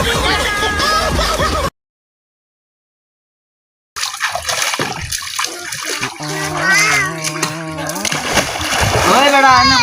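Water splashes loudly as someone dives and bathes in a pond, with lively splashing before and after a brief dead gap, and voices, including a child's, talking over it.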